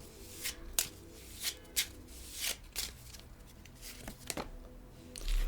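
A Shamanic Healing Oracle deck is shuffled by hand close by and quietly. The cards give repeated soft riffles and snaps at an uneven rhythm, and no voice is heard.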